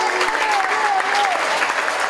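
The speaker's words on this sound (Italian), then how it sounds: "facciamo un grandissimo applauso ad Andrea" Audience applause at a pizza festival, a steady wash of clapping from a crowd filling the short stretch, with a faint voice or tone gliding underneath.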